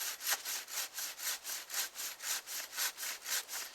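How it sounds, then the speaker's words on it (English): A hand saw cutting through sound, dry deadfall wood in quick, even back-and-forth strokes, roughly a dozen rhythmic rasping pulses heard up close with no talk. "So I just sawed this off"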